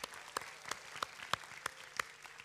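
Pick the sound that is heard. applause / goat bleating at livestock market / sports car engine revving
applause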